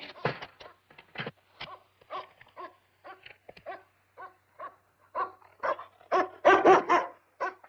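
A dog barks in short, sharp bursts mixed with whimpers and yips, close and fairly loud, with uneven gaps between the calls.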